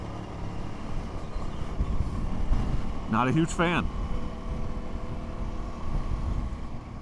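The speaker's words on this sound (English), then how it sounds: "It is windy AF." Steady, roaring wind buffets the microphone throughout on a mountain road along the Arizona backcountry route, with a brief stretch of someone speaking partway through.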